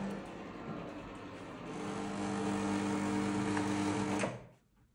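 Saeco vending coffee machine fitted with Swiss parts, starting up with a steady mechanical hum and whir that swells after two seconds, holds level, then cuts off sharply near the end.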